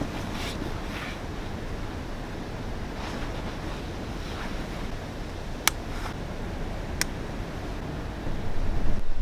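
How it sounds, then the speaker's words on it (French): Gusty wind buffets an outdoor microphone at an urban exploration site, a broad continuous rumble that swells near the end, with two sharp brief clicks partway through and no voices. "il y a un petit peu de vent, j'espère que ça va pas gêner"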